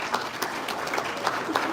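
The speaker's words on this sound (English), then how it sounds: "Please, a warm applause once again." An audience at the SAIPEC 2026 conference applauds, a dense steady patter of many hands clapping together throughout.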